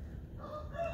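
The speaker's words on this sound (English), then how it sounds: "And as you can tell, you can hear the rooster crow." A rooster crows in the early morning, a single drawn-out call rising from faint to moderately loud over low background rumble, with no voices.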